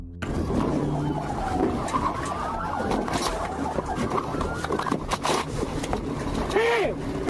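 A Nissan drives along a clear lane toward an intersection during a police chase. The engine and road noise roll past beneath a wailing siren that rises and falls, mixed with other traffic sounds.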